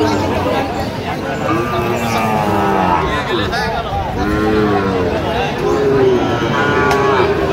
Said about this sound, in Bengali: গরুগুলো।